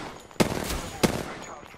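Two sharp gunshots crack about half a second apart in the video game Apex Legends, loud and close over a low background hum.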